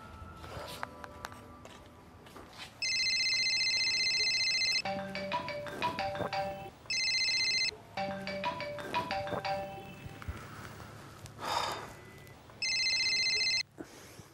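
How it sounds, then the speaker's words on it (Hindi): A phone rings in a Hindi film scene with a repeated electronic ringtone, several bursts separated by pauses, loud and close, alternating with other soft background sounds. "मैं तुम्हें कब से ट्राई कर रही हूँ फोन क्यों नहीं उठा रहे"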